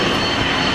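Saab airliner engines roar during takeoff at Atlanta Hartsfield airport on a humid day, a loud, steady, broadband engine drone that fills the brief moment without voices.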